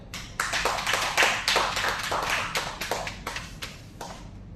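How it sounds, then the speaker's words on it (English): A small audience at a corporate training session on LinkedIn profiles claps in a light, uneven round of applause that fades over a few seconds. "A very big round of applause for her"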